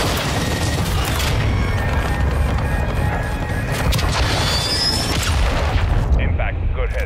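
Airstrike explosions in Call of Duty: Modern Warfare 2 arrive as dense, rumbling booms and crashes layered with battlefield noise, loud and continuous, while voices talk throughout.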